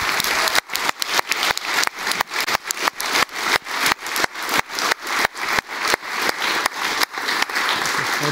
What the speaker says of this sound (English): So huge round of applause to all of them.